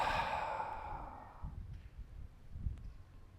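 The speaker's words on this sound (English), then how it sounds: "And exhale, release from your mouth." A single long breath pushed out through the mouth during a yoga session, close and fairly loud, fading away after about a second and a half into quiet room tone.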